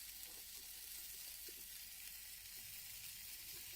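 Moong dal batter with besan and semolina poured around a potato in mustard oil on a non-nonstick pan, giving a faint, even sizzle that holds steady through the short stretch with no voices.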